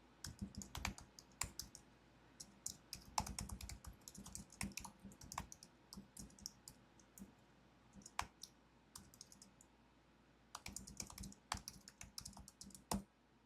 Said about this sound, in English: I will type the prompt here.